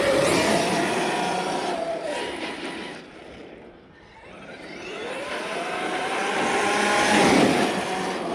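An Arrma Outcast 8S EXB RC car drives past with a loud motor whine that rises, dips briefly around the middle, then swells again as it accelerates close by, with no talk.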